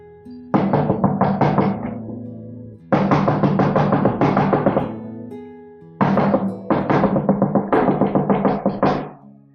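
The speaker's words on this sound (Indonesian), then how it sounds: "Itu adalah suara pintu yang diketuk berulang-ulang" Three bursts of rapid knocking on a door, each a quick series of sharp raps, close and fairly loud, separated by short pauses.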